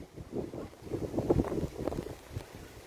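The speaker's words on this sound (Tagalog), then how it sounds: "Mahangin masyado." Strong wind buffets the microphone at a seaside park on the water's edge, gusting in low rumbling bursts that rise and fall over about three seconds.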